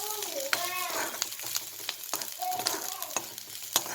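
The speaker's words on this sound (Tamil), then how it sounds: "வெங்காயம் வதங்கிருச்சு" Onions sautéing and being stirred in a pan for a Maharashtrian-style chana gravy, with a steady close sizzle broken by scraping stirs and a few sharp clicks, while a voice talks faintly underneath.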